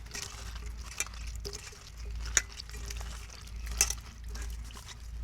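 Cut cauliflower being washed in water two or three times in a home kitchen, with soft sloshing, stirring and occasional splashes and clinks at close range, no talk.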